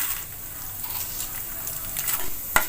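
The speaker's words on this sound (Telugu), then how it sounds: "రెండు చెంచాలు మినప్పప్పు వేసి వేసుకున్నానండి నూనెలోను" Urad dal frying in hot oil for ginger chutney, a steady close sizzle with light crackling and a sharp clink near the end.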